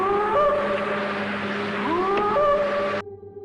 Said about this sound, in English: Bigfoot vocalizations from the Sierra Nevada mountains in the 1970s